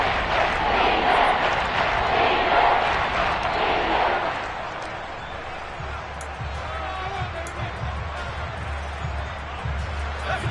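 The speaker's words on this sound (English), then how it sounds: "The crowd getting into it as we come up on a big 3rd down." A stadium crowd roars loudly in a Madden 23 football game ahead of a big third down, a broad sustained swell that eases after a few seconds into a lower murmur, with no talking.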